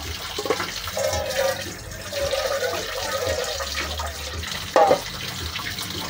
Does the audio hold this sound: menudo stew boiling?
yes